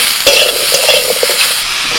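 Potatoes and ridge gourd fry in hot oil with black cumin and green chili, a close, steady sizzle broken by a few stirring scrapes and clinks in the pan.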